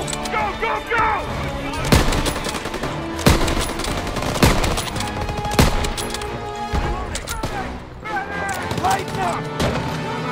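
Loud, sustained machine gun fire and gunfire bursts in the World War II shooter Call of Duty: WWII, with booming explosions mixed in and voices shouting over the battle.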